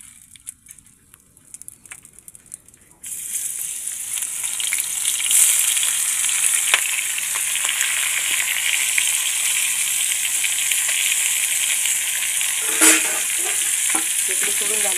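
Marinated hill crabs are dropped into hot oil after a few quiet seconds with faint clicks. A loud, dense sizzle then bursts up and holds steady, with a brief clatter near the end.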